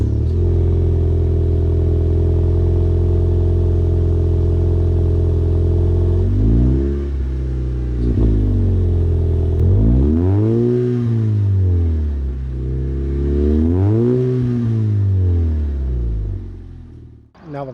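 A Lexus IS with a Remark axle-back exhaust idles with a deep steady rumble, then revs repeatedly, the exhaust note sweeping up and down in several loud, close blips before settling.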